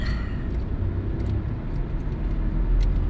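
Slow-moving road traffic on EDSA at Guadalupe, Manila, in the morning: a steady, dense low rumble of car and vehicle engines with no clear horns or voices.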